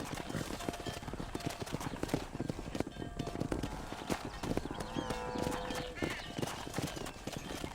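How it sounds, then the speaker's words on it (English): Horse hooves clip-clop on a ranch in the Red Dead Redemption video game, a steady rhythmic patter with an occasional whinny, mixed with background talk and game ambience. "Hit your horse and wait for me by the stable."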